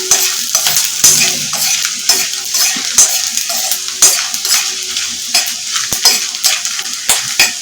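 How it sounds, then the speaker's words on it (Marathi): Dried red chillies and coriander seeds dry roasting in a pan for Kolhapuri misal, loud repeated scraping of a spatula against the pan with a light sizzle underneath, close and without talk. "हे सर्व मसाले आपल्याला भाजून घ्यायचे आहेत"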